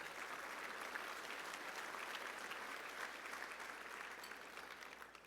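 Steady applause fills an awards event hall, a dense wash of clapping from the audience that holds evenly and tapers slightly toward the end, heard at a moderate distance.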